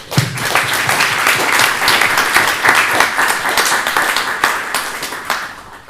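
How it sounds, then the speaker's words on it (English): A conference audience at a physics talk applauds warmly, a dense, steady burst of clapping from many hands that holds throughout and thins slightly toward the end. "Let's give an applause."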